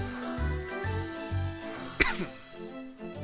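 A single sharp cough breaks through a busy background of Final Fantasy XI game music and soft chiming, loud and close, with the music continuing afterward.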